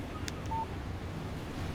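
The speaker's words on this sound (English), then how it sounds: "Text message from Barry." A phone text message alert in the video game Alan Wake Remastered: a faint, brief electronic beep tone with a couple of soft clicks over quiet windy ambience.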